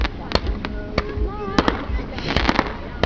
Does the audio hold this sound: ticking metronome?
no